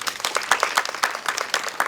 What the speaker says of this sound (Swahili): Situmpigia makofi.